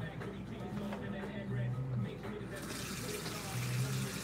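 Tap water starts running into a sink to rinse a makeup brush, a steady broadband rush that rises in the second half, with a low hum underneath.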